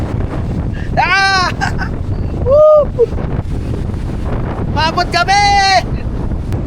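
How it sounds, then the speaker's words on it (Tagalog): Strong seaside wind buffets the microphone at Puerto Salingkapo in Unisan, Quezon, roaring steadily and loudly while people shout and exclaim over it. "Maulan at saka sobrang lakas ng hangin."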